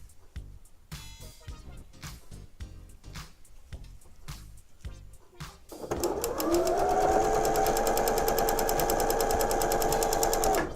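A sewing machine stitches quilt pieces right sides together, starting with slow, uneven needle thumps that speed into a loud, steady high-speed whir with rapid rhythmic stitching, close up and alone.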